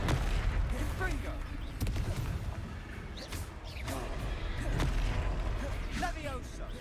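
Blasting spell effects in a wizarding video game, booming bursts and crackling impacts during a combat fight, repeated through the stretch under game sound and mixed with a voice.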